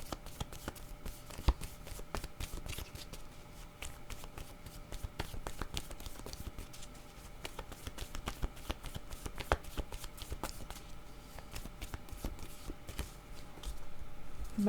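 Playing cards being shuffled and drawn from a tarot-style deck, a close, fast, steady riffle of card edges that goes on throughout with soft slaps of cards.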